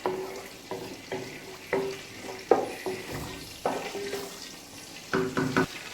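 Whole cumin seeds hit hot ghee and sizzle softly in the pan, with a light crackle and several sharp clinks as they are stirred, all heard close up with no talk.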